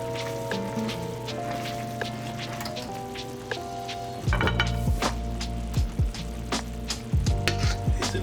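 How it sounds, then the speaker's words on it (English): Food is stirred in a frying pan, a steady sizzle under a background hum, then several scraping strokes of a utensil come in with a louder crackle in the second half. "Give it another little stir."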